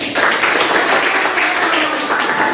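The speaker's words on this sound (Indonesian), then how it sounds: "Oke, kita berikan aplaus dulu." A classroom of students applauds after a group presentation, a dense steady burst of clapping that is loud and near and fills the whole moment.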